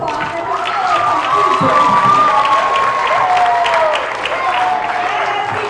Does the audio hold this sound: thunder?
no